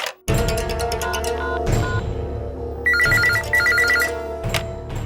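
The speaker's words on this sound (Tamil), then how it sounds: "இரு சக்தி, நான் நம்ம மேனேஜருக்கு ஃபோன் பண்ணி பேசுறேன்." A telephone rings while a call is placed to a manager, with repeated electronic ringtone bursts, loud and close, in several rhythmic phrases with short pauses, alone without talk.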